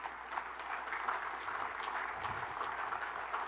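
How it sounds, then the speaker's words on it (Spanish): Steady, dense applause from a large audience at a police graduation ceremony in Mexico City, sustained and even throughout, heard from a moderate distance. "Quiero que nos brindemos un fuerte aplauso"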